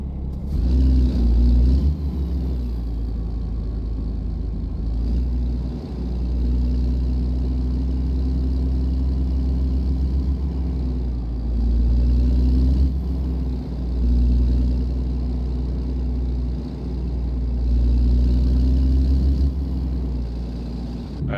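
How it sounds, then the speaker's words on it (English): A heavy truck engine in American Truck Simulator cranks to life and settles into a steady, close, low rumbling idle with a few brief surges, heard alone. "All right, let's get the engine going here."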